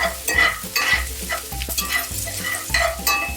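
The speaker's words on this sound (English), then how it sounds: "We're going to cook the onions until it's translucent. We're going to add in our carrots." Onions and carrots are stir-fried in a pan, loud close sizzling punctuated by repeated rhythmic scrapes and knocks of a utensil against the pan, with no speech.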